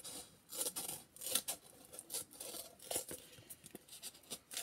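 Scissors snip off excess material on a homemade money bank, a quick series of crisp close cutting and rustling sounds in an irregular rhythm with no talking.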